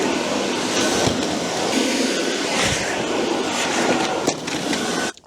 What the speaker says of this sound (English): in with the trigger and turbo